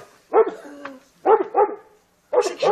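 A neighbour's dog barks in short bursts: a single bark, then a quick double, a pause, and another double. The barking is fairly close and loud against a quiet background.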